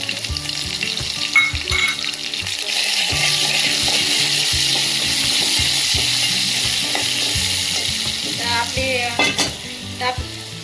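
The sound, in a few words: crushed garlic frying in a pan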